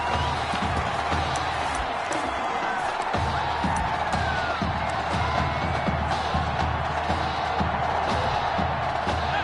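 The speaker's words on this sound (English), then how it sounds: "A big-time play that gets a roar from this crowd." A football stadium crowd roars after a big play in an NFL game, a loud, sustained wash of cheering with scattered shouts and no letup.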